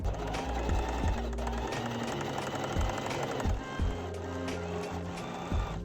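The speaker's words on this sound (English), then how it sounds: "Sew the elastic to the skirt using a zigzag stitch." Sewing machine zigzag stitching elastic onto a skirt, a loud close mechanical whir pulsing quickly in fast stitch bursts with brief slowdowns and restarts, running the full length without talk.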